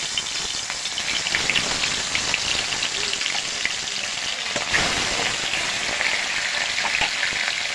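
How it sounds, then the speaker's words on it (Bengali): Mrigal fish, rubbed with turmeric and salt, frying in hot oil in a kadai: a loud, dense, steady sizzle and crackle runs unbroken throughout with no talking. "তেলটা গরম হয়ে গেছে, আমি তেল দিয়ে দিয়েছি কড়াইতে। মাছগুলো এবার ভেজে নেব।"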